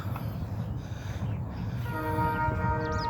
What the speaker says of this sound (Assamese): এই ট্ৰেইনটো এইপিনে আহি আছে নেকি?